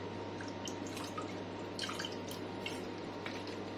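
Vinegar dribbles from a spoon into eggless cupcake batter in a kitchen, giving a few soft, quick drips and splashes over a low steady background hum.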